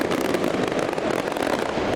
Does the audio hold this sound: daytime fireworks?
yes